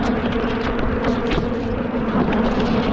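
Agitated honey bees at an opened hive, brood in the super, buzz loudly and continuously up close, a thick, wavering drone with no voices.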